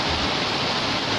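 Steady rain pours at a street intersection by Sumberagung market in Pringsewu, heard from a sheltered spot as a dense, even hiss with no breaks and no voices.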